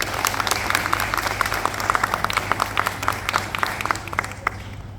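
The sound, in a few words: audience applause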